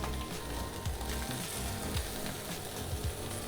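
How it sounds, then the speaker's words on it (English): Scallops searing flat side down in a hot pan give a steady, close sizzle that holds evenly throughout, with no voices. "So it goes scallops flat side down."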